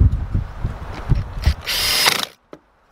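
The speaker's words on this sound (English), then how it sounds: "My pole driver with my 10mm deep 3/8 drive socket." A power driver spins a 10mm deep socket on a 3/8 drive, tightening a bolt on a 2008-2014 Cadillac CTS two-door door latch actuator, with a sustained close whirring burst after some handling clatter, then a single brief tap.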